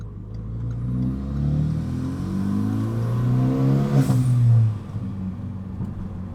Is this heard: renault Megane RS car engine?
yes